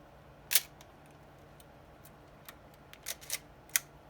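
Miranda Auto Sensorex EE 35mm SLR camera firing its shutter at 1/1000th second, a sharp close mechanical clack followed by several softer clicks of winding and handling, quiet between, no talking.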